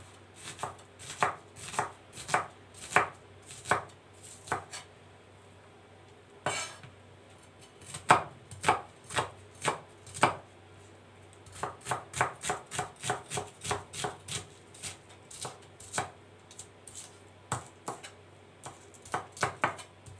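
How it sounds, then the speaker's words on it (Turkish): Rapid knife chops on a cutting board chopping onions, in bursts of steady rhythmic strikes with short pauses between, close and crisp with no talking. "kuru fasulyemizi soğanla doğramakla başlıyorum. Şimdi kuru fasulyeyi yap. soğanı doğra."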